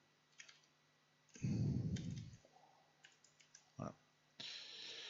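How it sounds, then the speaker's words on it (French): Computer mouse clicks at a desk, a few sharp separate clicks spread across the moment with a brief burst of other handling noise in between, close and fairly quiet. "On clique"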